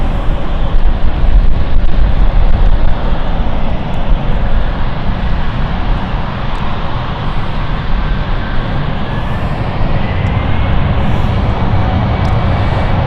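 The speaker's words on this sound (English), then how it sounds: "Okay, another takeoff this time. It is Edinburgh Flight." Jet airliner on an Edinburgh flight taking off from London City Airport: a steady, loud broadband engine roar that holds throughout, with wind buffeting the microphone and no voices.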